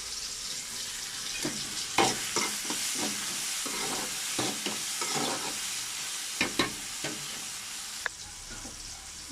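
Onion and tomato sauté in a hot pan, a steady sizzle running throughout with scattered scraping clicks of a spoon stirring, close by and without speech.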